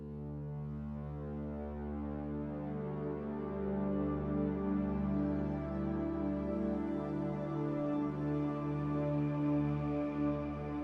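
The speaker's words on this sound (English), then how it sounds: "it has some kind of like wind breathy stuff in the background" A sustained Myth synthesizer pad drones steadily and quietly, with soft airy, breath-like wind texture shifting gently through the held chord.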